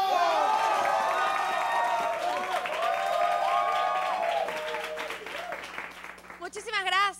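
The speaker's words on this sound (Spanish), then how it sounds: "¡Aplausos!" Audience applause and scattered cheers swell at a live stand-up comedy show as a comedian is introduced, a steady crowd wash that fades out toward the end while a voice carries over it.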